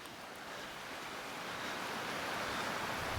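Small riffle and little waterfall at the head of a pool on a wild Colorado trout stream, a steady broadband rush of moving water that stays constant and close throughout, with no voices.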